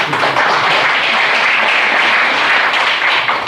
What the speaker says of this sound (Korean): 이것들 박수 한번 쳐주시고